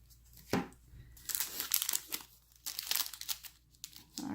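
A Lightseekers Kindred Rift trading card booster pack wrapper crinkles and tears open up close, in a string of loud, irregular crackling rustles.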